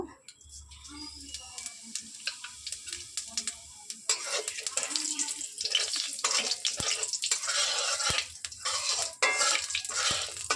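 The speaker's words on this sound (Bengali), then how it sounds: "আমি কড়াইটা গরম করে তেল দিয়ে দিয়েছি এবার একটু জিরে দেব" Hot oil hisses and crackles steadily in a pan as cumin seeds fry, with scattered clinks of a utensil and a low background hum.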